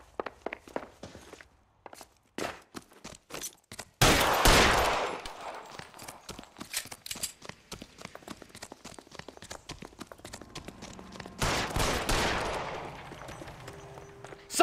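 Gunfire rings out in L.A. Noire as a string of sharp, close shots and cracks, with two dense, loud bursts of firing and scattered single shots mixed with footsteps in between.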